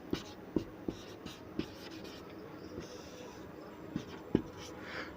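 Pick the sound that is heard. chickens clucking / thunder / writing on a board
writing on a board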